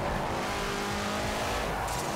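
A Ford GT40 MKI in Forza Horizon 4 drones on at full throttle, holding a steady dense roar with tire noise mixed in and no break for the whole stretch.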